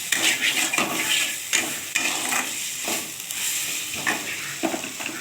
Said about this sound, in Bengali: ভাজা ভাজা হয়ে এলে তো ওই পোস্তটাকে ভালো করে ভেজে নিতে হবে